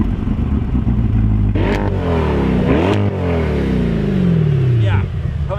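2024 Corvette E-Ray in Seawolf gray revving and accelerating in the snow, loud engine note sweeping up through gear changes and then easing down, heard from inside the car with people talking over it.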